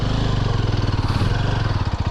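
A vehicle stuck in beach sand on Kappil Beach, Varkala, Kerala, revs its engine while the driver rides the half clutch, a steady pulsing mid-pitched drone close by with no talk.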